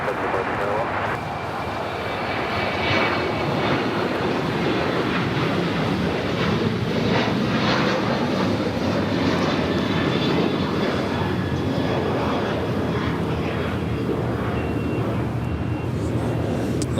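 A Lufthansa Boeing 747 backtracks along runway 24 left, a sustained, steady jet engine roar heard from a distance across the whole stretch.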